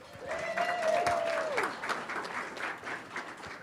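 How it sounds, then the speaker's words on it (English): A school assembly audience applauds and cheers for visiting students from West Michigan Christian, a dense steady clapping swell with a few whoops, loud and close throughout. "That was louder than the applause for Heidi"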